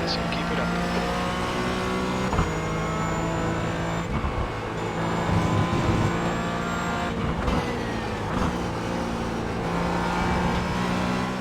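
Race car engines at Donington in iRacing, with steady high-pitched engine whine from two cars battling on the last lap, revs rising and falling through gear changes in a continuous loud drone, with talk over it.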